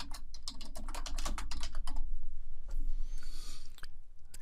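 Rapid clicks of a computer keyboard as subtitle text is edited in Cyberlink PowerDirector 2024, a close, dense burst of keystrokes that thins out toward the end, with no talking.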